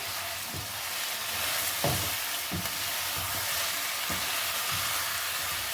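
Chicken fries with onions and a spice paste in a kadahi, a dense continuous sizzle filling the pan while a spoon stirs with soft periodic scrapes and knocks, close and steady throughout.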